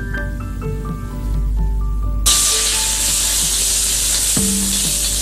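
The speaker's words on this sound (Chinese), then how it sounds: "等油烧热以后，把香菇倒进锅里煸炒" Shiitake mushrooms drop into hot oil in a wok and burst into a loud, continuous sizzle partway through, with stirring scrapes underneath. Quieter kitchen clatter comes before it.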